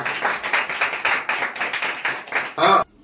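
A church congregation claps in a steady rhythmic beat, a dozen or so even claps, ending with a brief louder burst.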